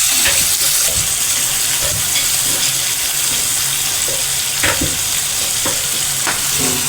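A korth mixture stirs and fries in hot oil, a steady sizzle under scattered scraping knocks of the spoon against the pan.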